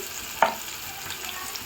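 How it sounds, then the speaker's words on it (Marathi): Small chopped onions frying in hot oil with mustard seeds, cumin and curry leaves for a Marathi misal tempering: a soft continuous sizzle with one sharp clink of a spoon early on. "कांदा आपल्याला चांगला तांबूस रंगावर होईपर्यंत भाजून घ्यायचा व्यवस्थित।"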